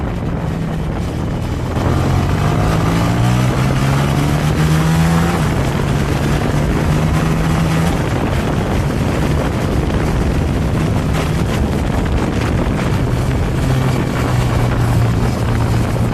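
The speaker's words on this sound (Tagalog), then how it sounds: "Ito ang ilan sa mga raw clips habang nagmomotor tayo. Tingnan nyong mabuti yung mga downshift ko at saka yung RPM ng motor." Honda Winner X motorcycle ridden on the road with downshifts and a soft clutch, the engine droning loud and steady with rising and falling revs between gear changes, mixed with constant wind rush.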